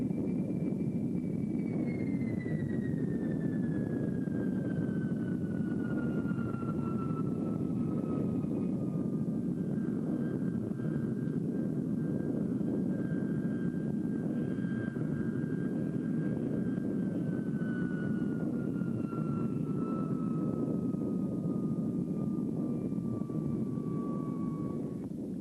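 An Avro Jetliner airliner comes in to land, its engines a steady, fairly distant roar with a slowly falling whine drifting across the sky for the whole stretch, with no voices.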